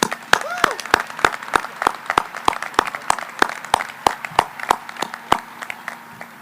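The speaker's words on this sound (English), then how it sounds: "Students and parents, please give a round of applause to the amazing teachers and support staff of CMS" Graduation crowd applauding the teachers and support staff at a career magnet school ceremony, a sustained round of clapping with prominent close claps, a brief tonal squeak and faint background crowd voices beneath.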